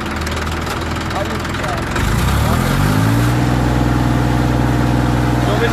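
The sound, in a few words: Massey Ferguson 241 tractor engine running at 2400 RPM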